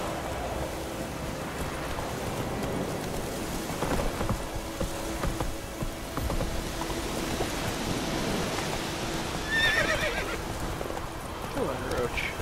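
A horse whinnies amid rain and rumbling thunder in the video game The Witcher 3, the neigh brief and mid-distance over steady downpour, with hoofbeats and voices talking nearby.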